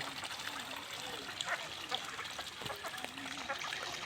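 Ducks on a village pond give soft, scattered quacks and calls over faint water trickling, fairly quiet and at a moderate distance, with no clear talk.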